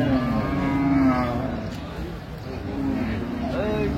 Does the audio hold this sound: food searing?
no